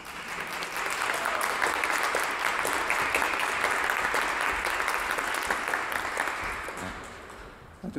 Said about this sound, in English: That applause nicely filled the gap while you walked up.